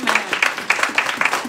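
A church congregation claps in a brisk, steady rhythm, the massed hand claps close and lively, with voices mixed faintly underneath.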